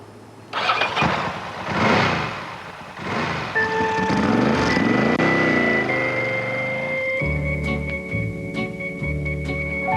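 A Ducati 916 motorcycle engine cranks and fires up, revving unevenly before settling into a steady, throaty idle close by.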